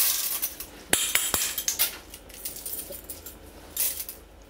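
Dry macaroni pasta, two cups of it, poured for a homemade beef and vegetable soup: a few sharp hard clatters up front, then a looser rattling trickle of pieces tapering off.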